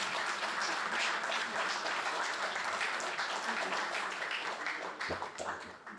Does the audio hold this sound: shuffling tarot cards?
no